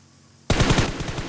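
Automatic weapon fire in the PUBG battle royale game: after a quiet half second, a loud rapid burst of machine-gun shots rattles in quick, even succession to the end.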